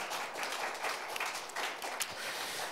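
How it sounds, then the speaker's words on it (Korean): Audience at an international diaspora literature forum in Bucheon applauds to welcome a speaker, a moderate, even wash of clapping from the hall, not very loud. "타카미 니에다 선생님 박수로 환영해 주시면 감사하겠습니다."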